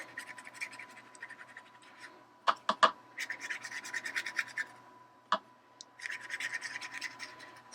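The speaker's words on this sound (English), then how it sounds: "So I'm just brushing down some color." A brush scrubs Island Indigo ink across an embossed watercolor greeting card in steady, close scratchy strokes, broken by a few sharper taps and brief pauses.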